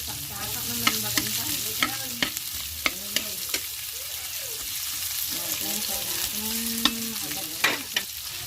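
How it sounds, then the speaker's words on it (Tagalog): Onion sautéing in a pan after crisping ararawan, a steady sizzle broken by repeated sharp clacks of a spatula stirring, heard close with a voice speaking at times. "igisa-gisa lamang natin ang sibuyas"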